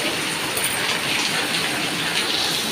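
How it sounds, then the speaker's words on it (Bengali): Heavy monsoon rain driven by gusts of wind lashes down in a steady, loud, broad roar close at hand, unbroken throughout with no voices. "জোর বৃষ্টি হচ্ছে আবার ঝাপটা দিচ্ছে"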